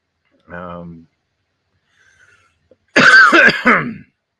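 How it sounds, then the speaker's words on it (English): A person makes a short throat-clearing rasp, pauses, then lets out a burst of close, harsh coughs in the quiet. "Still coughing."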